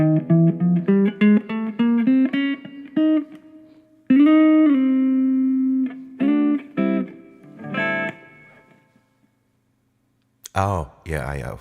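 Guitar plays a halting scale as single plucked notes with uneven timing, then a sustained note and a few scattered notes, ending in a short burst of voice-like sound after a silent pause.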